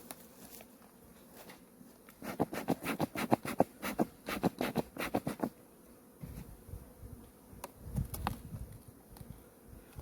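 Buckfast honeybees in an open, smoked hive holding about five frames, with close buzzing and bursts of scratchy rustling and tapping that come in clusters, then fade to a quieter hum.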